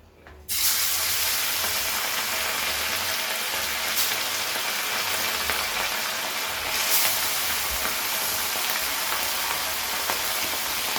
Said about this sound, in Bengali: তেলটা যখন এরকম ধোয়া ওঠা গরম হবে, তখন তেলের মধ্যে এক এক করে মাছগুলোকে ছেড়ে দিতে হবে।